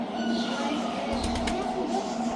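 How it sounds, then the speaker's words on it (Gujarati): Soft, low pigeon coos repeat against a steady background hum, with faint talking nearby. "જો અહીંયા કબૂતર હે"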